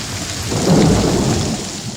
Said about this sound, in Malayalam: ഇടവപ്പാതി മഴ തിമിർത്ത് പെയ്യാൻ തുടങ്ങി